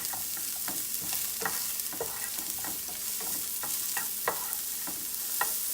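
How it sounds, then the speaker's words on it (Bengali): Cauliflower florets are stirred into golden-brown onions frying in a pan: a continuous sizzle broken by repeated clattering scrapes of the spoon at an uneven rhythm, close by and without talk. "এই সময় আমি দিয়ে দিচ্ছি ফুলকপিটা। ফুলকপিটা খুব ভালো করে মিশিয়ে নেব।"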